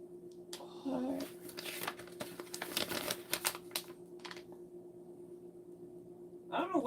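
Paper crinkles and crumples in close, quiet bursts, with crackling rustles scattered between a low steady hum and a brief voice.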